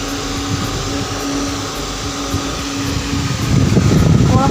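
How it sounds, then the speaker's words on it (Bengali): A small electric fan runs steadily with a constant hum and airy whoosh on a hot morning, close and fairly loud throughout, growing slightly rougher toward the end. "সকালবেলা ফ্যান চালিয়েছি, ফ্যানের আওয়াজ হচ্ছে"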